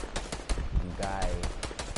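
A revolver fires repeatedly in a video game, giving a series of sharp, close shots in quick bursts while a person talks over the gunfire.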